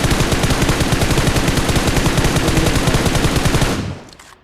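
Rapid automatic gunfire in a battle royale video game, solo FPP/TPP mode, sounds as a loud, close, unbroken burst of fast, evenly spaced shots that cuts off abruptly near the end, with no voices.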